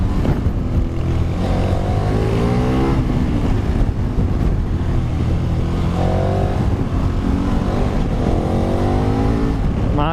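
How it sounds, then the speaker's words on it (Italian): A 2019 KTM 1290 Super Adventure S with an Akrapovic exhaust runs loud and close on a twisty road, its engine droning and rising through revs with crackling pops on the overrun, continuous throughout. "Sentilo come scoppietta il 1300."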